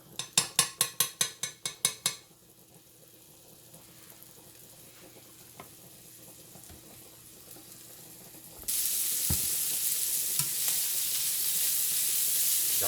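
Chicken frying in a pan, a steady close sizzle that grows louder and brighter partway through, preceded by a quick run of sharp rhythmic clatters like stirring or tapping against the pan.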